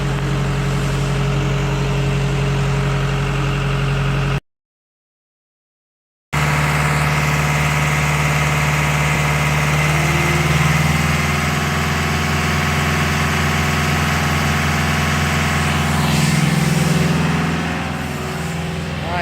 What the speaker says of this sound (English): So it's getting pumped through the hose now.